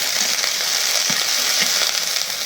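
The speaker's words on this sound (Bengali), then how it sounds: "পেঁয়াজ দেখো কত সুন্দর করে ভাজা" Onions fry to a deep brown in a pan with a continuous bright sizzle, broken by occasional soft stirring thumps close by.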